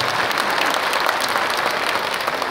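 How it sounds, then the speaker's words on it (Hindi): An audience claps together in a dense, steady round of applause that stays loud and even throughout, with no single voice standing out. "आप उनके लिए जितनी जोरदार ताली बजाएं वो कम होगा।"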